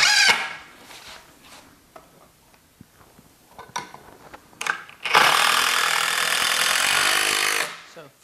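A power drill drives a screw into a temporary wooden counter that will later serve as a workbench: a short burst of motor whine and grinding, close and loud, after quieter handling clicks and taps.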